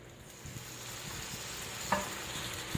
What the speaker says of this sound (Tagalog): magpainit na tayo ng kawali at lagyan natin to ng mantika or oil. Yan, so ilalagay na natin dyan yung ating chicken thigh